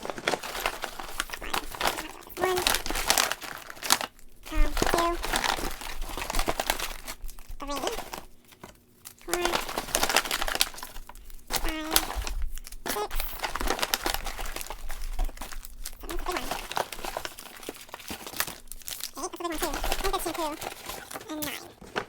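Foil sample packets of beauty products crinkle and rustle close up in irregular bursts with short pauses between handlings, some sharper crackles standing out.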